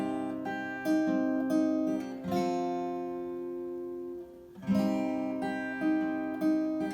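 Fingerpicked acoustic guitar plays a short passage of plucked notes and chords with a pause in the middle, clear and close.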